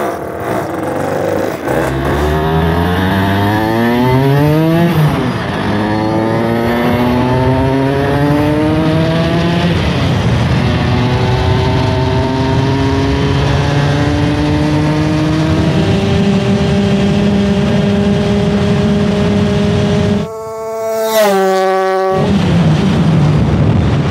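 A Hercules Prima GT moped engine runs at full throttle on a dynamometer, a loud buzzing two-stroke whine climbing in pitch and holding high, dropping off briefly near the end before revving back up.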